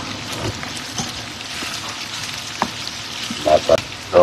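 Garlic and onions fry for sisig with a crackling, spattering sizzle that stays close and busy, broken by occasional utensil taps and a few louder scrapes toward the end.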